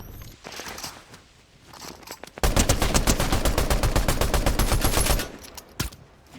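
Gunfire from a Fortnite match, where a revolver is in use: a loud, dense burst of rapid shots lasting about three seconds, then one more isolated crack near the end, with quieter in-game ambience before and after.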